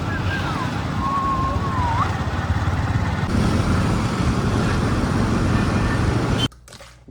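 A motorcycle taxi rides through Delhi traffic at night, its engine droning steadily with loud wind rush and the surrounding traffic noise, while a faint whistle wavers briefly early on. The noise cuts off abruptly near the end.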